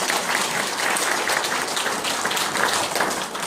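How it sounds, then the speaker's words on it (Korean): An audience applauds steadily throughout at a 100th-anniversary March 1st Movement commemoration ceremony, a dense, even wash of many hands clapping with no pauses. "박수로 한번 합니다."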